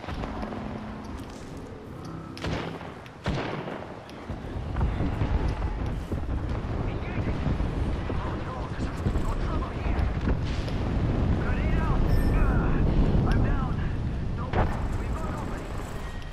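Airstrike explosions in a game, a heavy rolling rumble of blasts that builds from about four seconds and continues with sharp cracks and wind-like roar, with a voice speaking early on.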